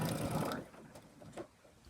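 A sewing machine backstitching a fabric clutch wallet makes a quick, loud burst of stitching for about half a second, then stops, leaving faint handling noise.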